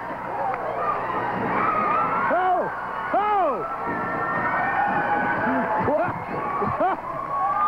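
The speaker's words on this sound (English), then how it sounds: "Look at this crowd." Wrestling arena crowd roaring and cheering through a match, a loud sustained mass of voices with individual shouts and rising whoops, under an excited announcer talking.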